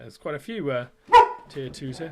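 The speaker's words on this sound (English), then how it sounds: "I think the dog heard the post." A dog barks once loudly in the background between stretches of nearby talking.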